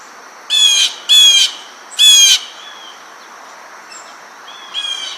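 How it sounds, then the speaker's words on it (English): A Missouri bird gives three loud, harsh jeer calls in quick succession, each a raspy burst, then a fourth call starts faintly at the end over a quiet outdoor background. "they have a kind of loud, harsh jeer call"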